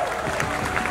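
Festival audience applauds at the closing ceremony of the Jogja-NETPAC Asian Film Festival, a brief and steady burst of clapping with faint crowd murmur.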